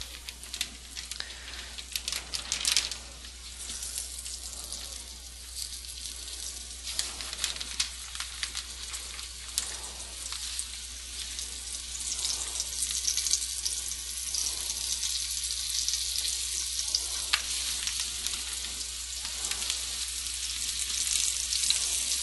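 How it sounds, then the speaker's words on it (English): Loud, continuous hiss and crackle of coated beef tips frying in hot oil, dense and close, with sharp pops scattered throughout. "carefully place the coated beef tips into the hot oil"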